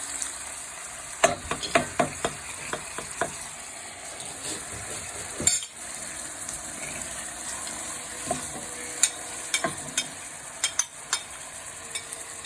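Soy sauce, scallions and honey sautéing in a pan: a steady sizzle runs throughout, broken by scattered clinks and scraping stirs of a utensil against the pan, close and fairly quiet, with no talk.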